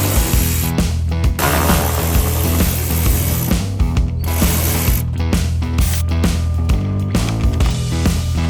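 A ratchet driving a small T20 Torx bit clicks steadily while removing the fender well liner on a Bentley during bumper work, close and loud, with continuous ratcheting and brief pauses between runs.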